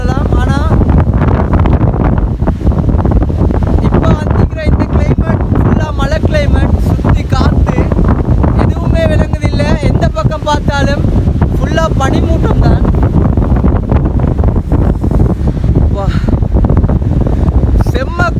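Cold, gusting wind roars into the microphone on a mountain in the Hatale hills during a snowstorm, a loud continuous rush that stays steady throughout while someone talks over it.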